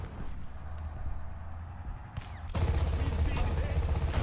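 Heavy, thumping gunfire in War Thunder, quiet at first and then a loud sustained burst of rapid shots with a deep rumbling undertone, close and dominating.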